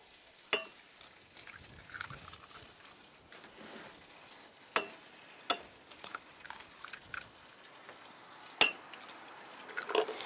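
Bacon sizzles steadily in a pan while eggs are cracked for a four-egg omelet, with a handful of sharp, close cracks and taps standing out above the continuous frying hiss.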